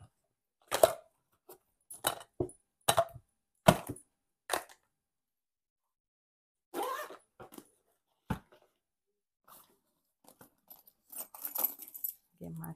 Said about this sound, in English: Get my keys out.